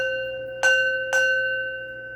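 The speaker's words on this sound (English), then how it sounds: "So I'm going to ring my bell" A small hand bell rung twice, about half a second apart, each strike bright and ringing with a lingering tone, close and clear over a quiet room.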